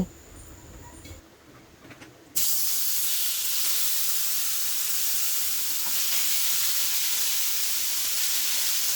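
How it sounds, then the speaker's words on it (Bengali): Chicken pieces drop into hot ghee in a pan on a gas stove, and a loud, close sizzle bursts in after a quieter start, then holds as a steady, even hiss to the end. "ঘি দিয়ে এই চিকেনের টুকরোগুলো আমি ভেজে নেব।"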